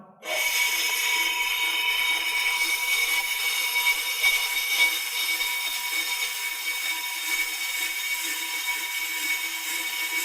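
A Pro-Cut on-car brake lathe starts with a sudden onset and then runs steadily, a bright high-pitched mechanical whine with a constant tone that holds level throughout, close and with no voices.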